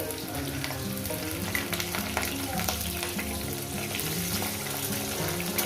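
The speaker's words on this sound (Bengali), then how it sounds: "আলুটাকে সুন্দর করে ভেজে নিচ্ছি" Potatoes frying in hot oil in a pan, a continuous crackling sizzle with a low rhythmic hum underneath, steady and close throughout.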